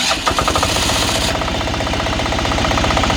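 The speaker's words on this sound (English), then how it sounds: "So here we will start the engine." Engine of a Strassmayr A500 emulsion sprayer started up: a brief cranking burst, then the motor catches and runs with a steady, loud rapid knocking chug close by, no talk.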